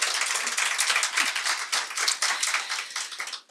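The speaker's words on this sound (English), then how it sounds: "give us a clap in the room for the colleagues" An in-room audience at a national eTwinning teachers' conference claps in a brief, dense burst of applause that fades out after a few seconds.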